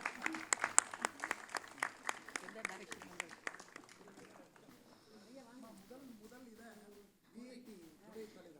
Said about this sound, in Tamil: யார் பலமாக கை தட்டுறாங்களோ அவங்களுக்கு ஒரு ப்ரைஸ் இருக்கான்